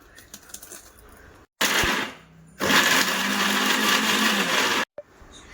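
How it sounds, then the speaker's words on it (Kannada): Mixer grinder blending mint leaves and masala for a mutton methi gravy, loud whirring bursts: a short pulse, then a longer sustained grind of about two seconds before stopping. "ಇದು ಎಲ್ಲ ನಾವು ಮಿಕ್ಸಿ ಮಾಡ್ಕೊಳ್ಳೋಣ ಗ್ರೇವಿಗೋಸ್ಕರ"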